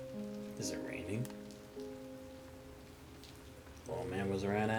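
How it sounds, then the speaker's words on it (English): Rain patters softly and evenly in the video game Punishing Gray Raven, a faint continuous hiss under voiced game dialogue and music tones that come and go. "Is it raining?"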